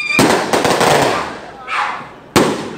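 Fireworks burst in a rapid crackling run of sharp bangs, then fall quiet before one more loud pop, while a voice speaks over the display.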